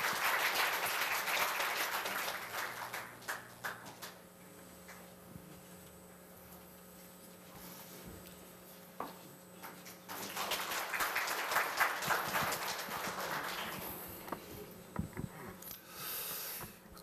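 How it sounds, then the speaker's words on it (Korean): Applause rises from the audience at a Korea University labour culture awards ceremony, a broad wash of clapping that dies down, then swells again in a second burst before fading. "모두 큰 박수로 맞이해 주시면 감사하겠습니다."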